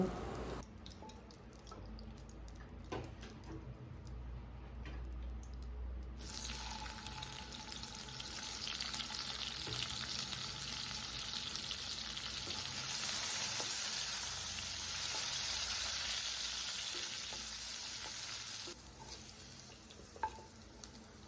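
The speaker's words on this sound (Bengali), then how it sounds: "এরপরে আলুগুলো ভেজে নেব" Potatoes fry in hot oil for a Bengali aloo potol rasa, a steady close sizzle with soft crackles and faint stirring scrapes that runs the whole length without a break.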